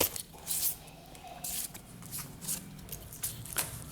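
Astrology reading cards being shuffled by hand in quick, soft riffling bursts with short pauses between them, close and fairly quiet.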